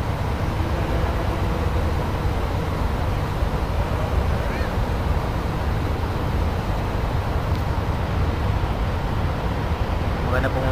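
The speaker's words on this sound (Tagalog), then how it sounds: "Ganda ng flow ng tubig." Water rushes steadily at a hot and cold spring in Kalabato, La Paz, Leyte, Philippines, a loud, continuous broadband flow with no break from start to finish.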